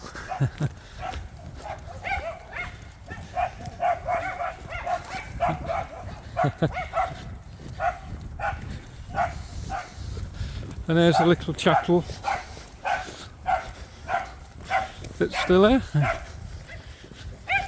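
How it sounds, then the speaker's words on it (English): Several dogs bark and yip excitedly in quick, overlapping bursts while a person talks nearby. "All the dogs are excited."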